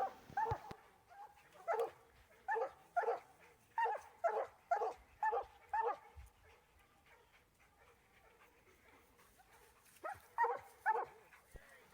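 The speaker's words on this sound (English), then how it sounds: "he does bark into the circle" A coonhound at a hunt competition barks repeatedly at a treed raccoon, a series of loud rhythmic bawling barks in two bursts, fairly close, with quieter pauses and faint voices between.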